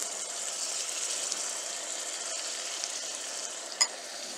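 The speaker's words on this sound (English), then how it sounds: "saute it properly so that the flavors will come from the ginger garlic paste" Ginger garlic paste and translucent onions sauté in a pan for an onion tomato gravy, an even, continuous hiss with one brief tap of a utensil near the end.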